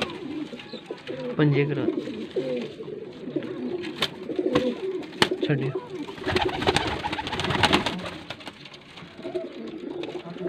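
Racing pigeons coo repeatedly inside a loft, their soft throaty calls overlapping near and far, while people talk over them throughout and a few sharp knocks ring out.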